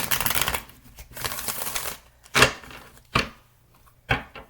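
Tarot cards are riffled and shuffled close up in a few quick bursts, with a longer rustling run at the start and brief snaps after.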